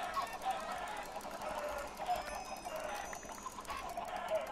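Chickens cluck in Minecraft, with short repeated calls overlapping at a low, steady level over a faint background hum.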